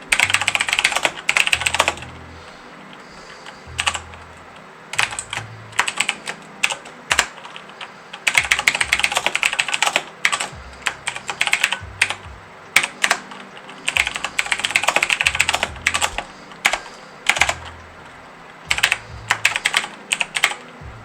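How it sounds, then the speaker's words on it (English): Loud, clattery computer keyboard typing in rapid bursts with short pauses, close up and continuous for a long stretch. "Yes, I have a loud keyboard."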